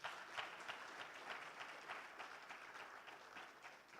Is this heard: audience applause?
yes